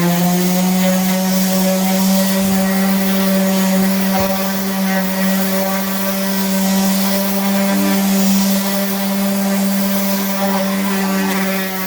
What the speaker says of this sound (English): So we'll hit it one more time with a very fine